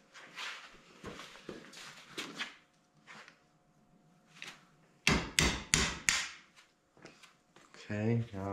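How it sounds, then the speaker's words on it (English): Sharp metallic smacks from hammering cotter pins out of a 2019 Polaris Sportsman 850 during a major service: scattered taps, then a quick burst of several loud close strikes, with faint movement between. "Gonna run around, smack all my cotter pins out."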